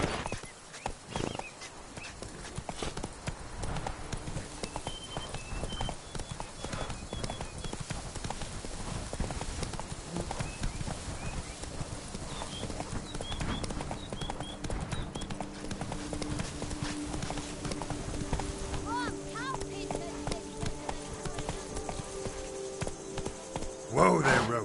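In The Witcher 3, the horse Roach trots with a steady clip-clop of hooves, fairly quiet and continuous, with a brief whinny-like flourish near the end and game ambience underneath.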